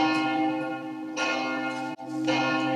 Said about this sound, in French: Alors ici, on entend une belle cloche.